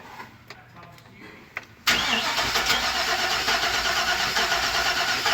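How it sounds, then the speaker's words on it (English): A car engine cranks and catches during an ignition test in a repair shop with low ignition voltage, bursting into a loud, steady run after a quiet stretch with faint taps and voices. "Go ahead and try to crank it."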